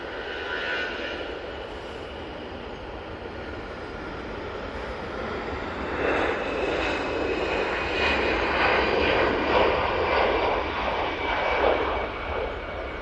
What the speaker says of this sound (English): EasyJet now on the roll. You can tell it's a 320-200.